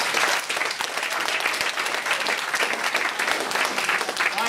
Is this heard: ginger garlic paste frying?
no